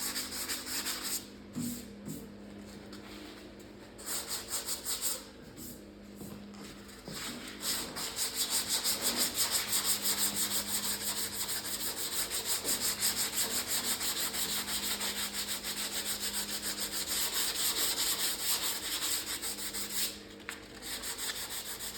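Rhythmic back-and-forth rubbing of a sanding block over guide-coated autobody panel by hand, a steady close scratchy swish that pauses briefly several times before continuing at a fairly even pace.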